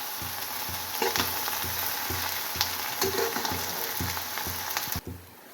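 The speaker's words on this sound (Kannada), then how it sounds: "ಆಲೂಗೆಡ್ಡೆ ಅದನ್ನು ಹಾಕಿ ಎಣ್ಣೆ ಚೆನ್ನಾಗಿ ರೋಸ್ಟ್ ಮಾಡ್ತೀನಿ" Mashed potato and fried onion sizzling in oil for masala dosa filling, a steady loud frying hiss with regular scraping stirs of a spatula, ending with a quieter stretch.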